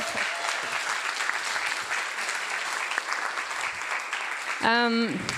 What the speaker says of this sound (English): So I think you can applause to that.